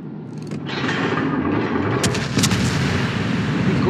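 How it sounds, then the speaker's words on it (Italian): Naval guns on an Italian tier VIII cruiser, the Amalfi, firing at a French battleship in World of Warships. Heavy booming salvos and rumbling reports overlap with dense mechanical clatter, loud and continuous, with no voices. "E continuiamo a sparare alla corazzata francese"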